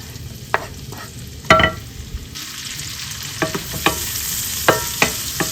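Tomatoes and onions sautéing in a pan for ginisang ampalaya, a steady close sizzle broken by sharp scraping stirs and utensil clinks, with no talk.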